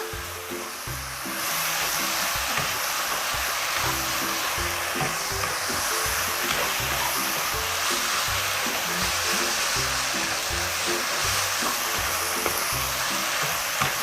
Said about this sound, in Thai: แล้วก็ทำการผัดคลุกเคล้าเลยค่ะ